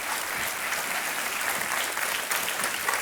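A studio audience at a Hindi TV quiz show keeps clapping, dense and sustained, even in loudness throughout.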